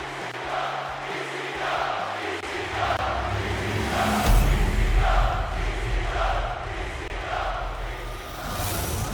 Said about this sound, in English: the crowd can be heard chanting EC Dub.